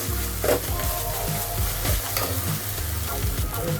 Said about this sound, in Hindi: ये डाल के भी हमें भूनना है।